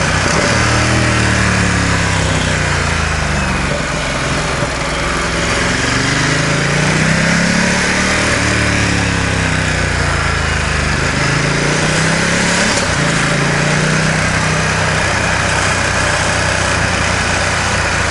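A Ducati XDiavel motorcycle rides through town, its loud, steady engine droning close up for the whole stretch, with the revs rising and falling in slow waves as the bike speeds up and slows.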